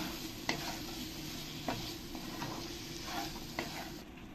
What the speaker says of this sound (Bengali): এবার আমি যে আলুগুলো ভেজে রেখেছিলাম এই আলুগুলো দিয়ে ভালো করে একটু মশলার সঙ্গে মিশিয়ে নেব